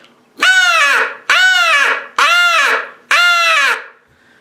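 Four loud, drawn-out caws blown on a Hammerin Crow call, a hand-blown crow call imitating crow caws, each harsh and harmonic-rich, evenly spaced with short gaps and no talking.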